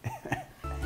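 A small dog with heart failure coughing: a few short, hoarse hacks in quick succession, close and moderately loud, followed by a brief low rumble.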